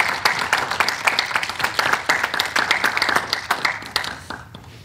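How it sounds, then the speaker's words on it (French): Audience applause at the close of a public presentation on a proposed wind farm project, a dense wash of hand clapping with sharp individual claps, steady for several seconds before thinning out and stopping, with no voices. "j'espère que vous allez être avec moi pour les applaudir une fois"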